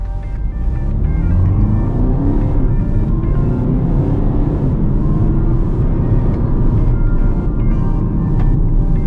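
A 2018 BMW X1 F48 20d xDrive with a 190 hp diesel and automatic gearbox pulls away from a standstill, its loud engine drone climbing steadily and close by throughout, with no talking.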